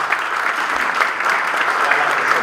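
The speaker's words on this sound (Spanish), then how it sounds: "Vilma, por favor, un fuerte aplauso desde ya." Audience applause for speaker Vilma at a blessing and reinauguration ceremony, a steady, dense round of clapping held at an even level throughout.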